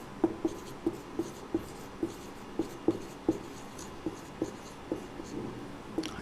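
Handwritten strokes on a board or paper during a physics class on distance and displacement, a dozen or so short scratchy marks in an irregular steady rhythm, close and clear with no talk.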